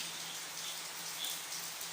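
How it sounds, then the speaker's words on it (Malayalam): Heavy rain pours down steadily, a dense, even hiss of drops with no pauses and no voices. "പുറത്ത് നല്ല മഴ ഉണ്ട്, ഇടിയുണ്ട്, മിന്നുണ്ട്, നല്ല കാറ്റുണ്ട്"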